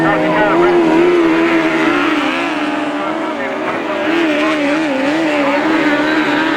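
Autograss race cars roar around the St Neots track, engines revving in a loud, continuous howl that rises and falls, with a commentator talking over the racing.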